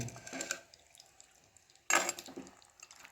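Marinated chicken being stirred in a cooking pot for handi chicken on a gas stove, two bursts of metallic scraping and clinking with wet squelching, separated by a quiet pause.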